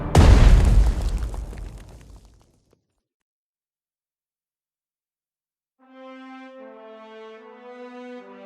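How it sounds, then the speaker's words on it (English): Artillery explosions in the WWII strategy game Strategic Mind: Blitzkrieg: one loud, close boom with a rumbling decay that fades over about two seconds, then silence before a soft tonal music line comes in. "Can we start blasting already? Firing for effect!"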